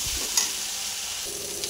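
Ground spices with turmeric and a splash of water fry in a wok as a steady, close hiss, while a few light stirring scrapes sound early on and no one speaks.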